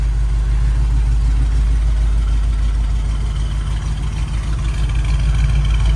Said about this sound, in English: Listen to those Thrush turbo mufflers.